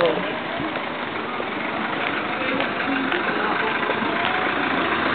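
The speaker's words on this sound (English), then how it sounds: "that's the jeepney that we're gonna be riding in" A jeepney idles on a Manila street at night, a steady, fairly close engine rumble with street noise all around and people talking over it.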